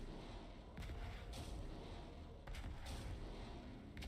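Grenades going off in the shooter game Angels Fall First, several dull muffled blasts over a continuous din of distant battle noise, moderately loud and without speech.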